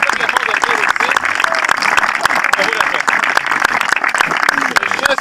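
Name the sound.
audience applause at family gathering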